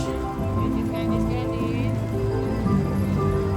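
Rain falls outdoors on a city street, a steady close patter and hiss on surfaces with a continuous low rumble of urban background.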